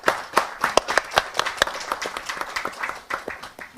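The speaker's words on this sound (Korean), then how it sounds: "지금부터 더불어민주당 탄소중립위원회 출범식을 여러분의 박수와 함께 시작하도록 하겠습니다" Audience at a Democratic Party carbon neutrality committee launch ceremony clapping, distinct sharp claps in an uneven rhythm, fairly near, with a few louder individual hands standing out.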